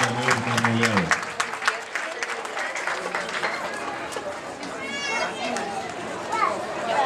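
An audience at a Great Dane dog show applauds a merle Great Dane, a dense wash of clapping mixed with crowd chatter and children's voices, with a brief low voice at the very start.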